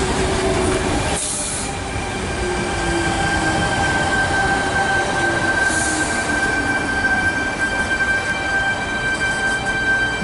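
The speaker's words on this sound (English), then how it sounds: "We have T89 and T129 arriving in the platform number 1" Sydney Trains sets T89 and T129 pulling into Asquith station platform, loud and close, with a continuous rumbling roll, high sustained wheel squeal and brief air hiss bursts, no voices.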